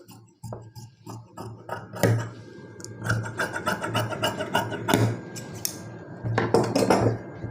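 Scissors snip through silk saree blouse fabric in a series of close, crisp metallic clicks and slicing strokes, irregular in rhythm, with a low hum underneath.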